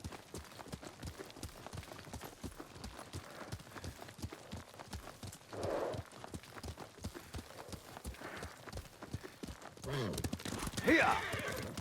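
Horse hooves clop in a steady, quick rhythm while riding through the Ghost of Tsushima game world, close and crisp, with occasional snorts or whinnies and character dialogue rising over the galloping.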